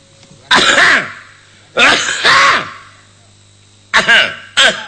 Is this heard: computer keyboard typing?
no